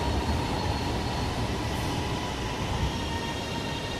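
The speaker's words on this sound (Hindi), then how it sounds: "वो ट्रेन आ गई है। देखें कितना शोर है ट्रेन का" A train pulls into a station in Lahore with a loud, steady rumble of wheels and carriages that stays dense and close for the whole stretch, with no voices.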